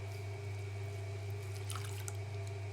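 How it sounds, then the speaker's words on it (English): Excess water being cleaned out of a clay cup on a running pottery wheel, a soft wet trickle and a few drips over the steady low hum of the wheel motor. "Now I'm just cleaning up the excess water inside to help it dry better once I finally take it off the wheel"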